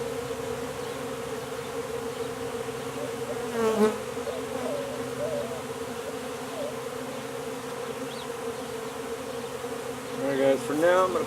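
Bees swarm and buzz steadily up close while a hive is removed from a speaker box, a dense continuous drone with brief scraping and handling noises from the comb work.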